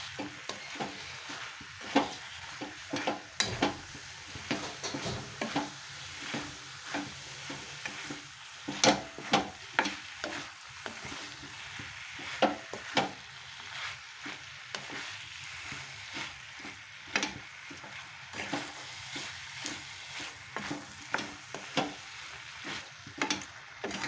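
Cauliflower sautéing in a pan for a home-style sabzi, with continuous sizzle and frequent rhythmic scrapes and clatters of a spatula stirring close by.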